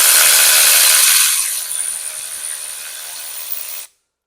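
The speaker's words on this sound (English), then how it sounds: "First thing I'm going to do is I'm going to loosen this clutch adjustment nut." A clutch adjustment nut on an old Harley-Davidson Knucklehead, Panhead or Shovelhead being loosened with a tool, giving a loud, bright, harsh grinding and rasping that softens after about a second and continues steadily, then cuts off abruptly.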